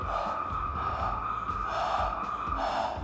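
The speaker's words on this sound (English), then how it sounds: "the water goes into the nose and comes out from this other" Jala neti nasal rinsing with water, with a rhythmic series of close, wet breathy snorts and airy gasps through the nose and mouth repeating about every second.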